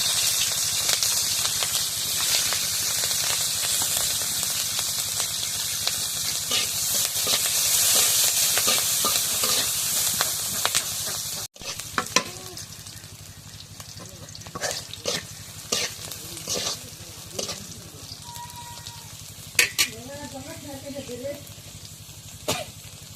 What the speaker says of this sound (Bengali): কাঁচা কাঁচা পেঁয়াজ কাটা দিয়ে দেবো